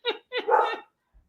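Two quick, close dog barks, the second longer and higher, then silence.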